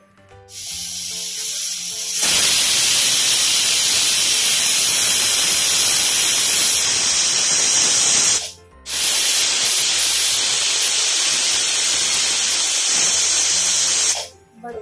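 A pressure cooker on a gas stove hisses steam loudly and steadily in two long bursts with a brief break between them, with no talk over the sound.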